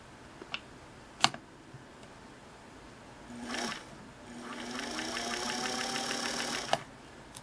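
Singer 329K industrial sewing machine with an enclosed cast-aluminum, fan-cooled motor starts up and runs steadily for a few seconds, a close whirring hum with rising pitch after a couple of sharp clicks.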